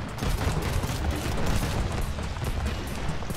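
Rapid barrage of cannon fire from eight cannons on twin servos in the Trailmakers video game, a dense continuous rumble of overlapping blasts with no pauses.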